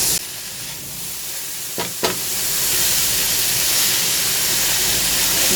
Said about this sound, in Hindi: ये देखें 2-3 मिनट हो गए मैं भूनते हुए, फ्राई करते हुए वेजिटेबल को